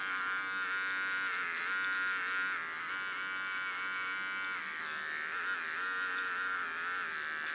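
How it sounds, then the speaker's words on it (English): A battery hair clipper about a year old buzzes steadily while cutting short hair, its close, continuous electric drone wavering slightly as the blades work through. "And my clipper has a hard time doing this."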